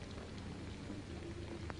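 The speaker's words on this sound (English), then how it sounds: "It's raining." Rain falls steadily in a 1930s film scene, a soft, even hiss under faint background hum, with no talking.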